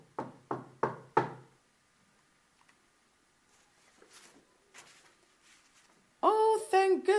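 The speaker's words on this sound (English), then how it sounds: "The wolf arrived at Granny's house and knocked lightly at the door." Four light, quick knocks land on a wooden door in an even rhythm and stand out clearly against quiet. Faint soft rustles follow, and then a voice speaks.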